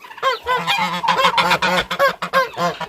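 Several domestic geese honking loudly and close by in quick, overlapping calls, in a rural farmyard in summer.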